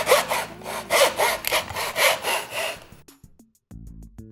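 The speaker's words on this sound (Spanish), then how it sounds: "Ahora ya podemos empezar a realizar el corte." A hand saw cuts through wooden moulding held on a mitre setup, with about nine steady rhythmic rasping strokes for three seconds, then the sawing stops and a few faint clicks and a low hum follow.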